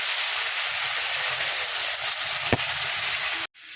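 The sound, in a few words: ginger, cumin and green chili paste sizzling in oil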